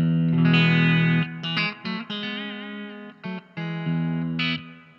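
Electric guitar on a clean amp channel with the amp's built-in reverb, playing a few sustained chords and short phrases that ring out with a soft reverb tail, loud and close with no talking.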